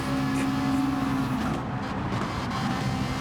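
Two Ferrari race cars run close together at Kyoto Driving Park in a racing video game, their engines a continuous loud drone with a steady hum throughout.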